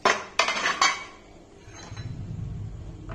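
A pressure cooker lid is handled and opened after cooking potato and cauliflower, with two or three sharp metallic clanks of lid against pot, then a quieter low rumble.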